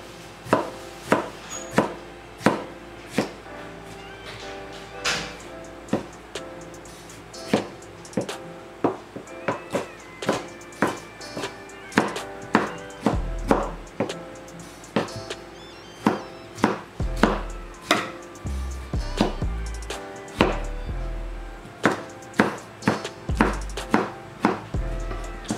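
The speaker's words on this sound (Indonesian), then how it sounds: "Ini tomat 2 biji kita potong" A knife chops two tomatoes on a cutting board, a long run of crisp, evenly spaced knocks that speeds into quick bursts toward the end, close and clear with no talking.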